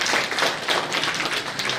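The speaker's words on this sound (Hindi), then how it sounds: "एक बार जोरदार ताली होगा।" An audience at a conference session bursts into brief, loud applause to welcome a presenter, dense clapping filling the short moment.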